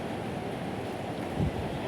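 A broad, steady roar of typhoon wind and heavy rain, a dense rushing wash with a faint low thump near the end.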